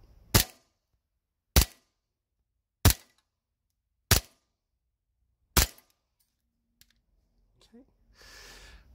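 An EMG STI Combat Master airsoft pistol on green gas with 0.2 gram BBs fires five sharp, evenly spaced shots, close and loud, followed by faint handling clicks and a short rustle.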